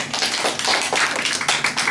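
Students in an online math class clap together, a dense, continuous patter of many hands with uneven rhythm, fairly loud and close, lasting about two seconds with no talking.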